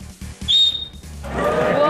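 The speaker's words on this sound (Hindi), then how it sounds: "मुझे एक नई सीटी आती है जो कोई नहीं बजाता" A person whistles a new style of whistle in a television studio: a brief shrill rising tone, then a fluttering, warbling whistle, loud and close, with room noise around it.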